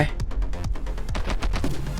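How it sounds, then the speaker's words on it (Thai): Rapid gunfire in My Friend Pedro: a dense burst of fast, loud shots in quick succession, sharp and close, with a voice talking alongside the shooting. "ปืนโคตรรัวนะครับ"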